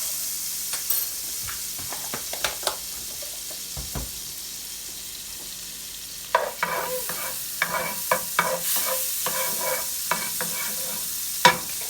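Butter melting into olive oil in a pan gives a soft, quiet sizzle, broken by scattered clicks and scraping taps of a utensil, growing busier toward the end.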